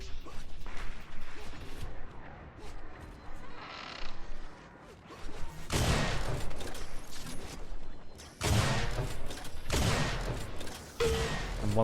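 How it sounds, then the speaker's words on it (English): Rockets fire and explode repeatedly in an Unreal Tournament match, with several sharp loud blasts and crashing impacts amid clattering game sounds and brief quieter gaps. "Wasty gets melted by rockets there"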